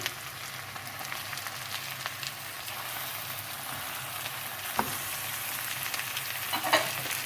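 Chicken pieces frying in a pan for biryani give a steady, soft sizzle with occasional crackles and stirring clatter, moderately close, with no voices.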